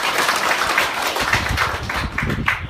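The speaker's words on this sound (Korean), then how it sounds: "우리 박수 한번 쳐드립니다" A church congregation gives a short round of applause during a Sunday service, with loose, uneven clapping from a modest group heard fairly close.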